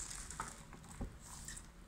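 A homemade rain stick rattles with a soft, continuous patter of small bits tumbling inside, quiet and steady with a single louder knock partway through.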